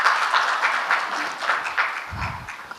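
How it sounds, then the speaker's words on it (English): An audience at a packaging industry summit claps to welcome the session chairman, a moderate burst of applause that swells and fades, with a low thump near the end. "Can we give him a more energetic round of applause?"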